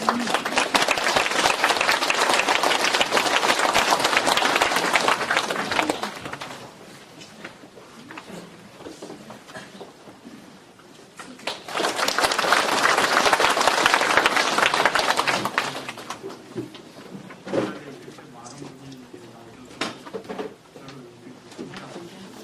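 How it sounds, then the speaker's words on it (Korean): An audience at a lecture forum in Daegu applauds a speaker. Two strong bursts of clapping, the first lasting several seconds and the second after a quieter pause, then a few scattered claps fading out. "대구 시민 여러분들 큰 박수 부탁드립니다."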